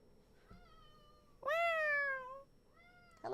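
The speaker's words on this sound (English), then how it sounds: "Hello, cat. Meow meow." A cat meows in the Paranormasight video game, one long, drawn-out, loud meow in the middle, framed by softer, shorter mews before and after, with no talking over it.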